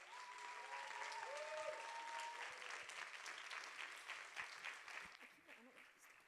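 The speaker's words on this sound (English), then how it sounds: "Huge round of applause for Echo." An audience claps for a speaker stepping up at a live conference event, a steady, fairly distant wash of applause that slowly tapers off, with a voice briefly audible over it near the start.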